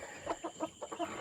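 An American Bresse hen being handled gives a quick series of five or six soft, close clucks in an even rhythm, with no talking.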